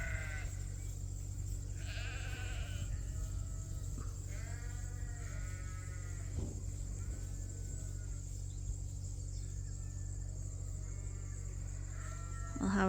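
Rams on a sheep farm on a mild autumn day bleat in repeated wavering calls, several overlapping at varying distances, over a constant buzzing hum of insects.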